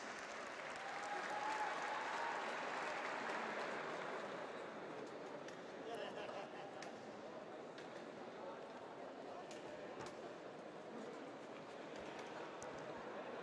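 A crowd at the Paraclimbing Cup Edinburgh 2017 applauds the men's AU2 forearm amputee medalists, the clapping moderately distant and strongest early before thinning into a softer, scattered patter, with faint voices beneath.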